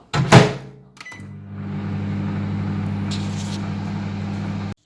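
A microwave oven runs with a steady low hum after a door thunk and button beeps, reheating food in a home kitchen, close and alone without speech.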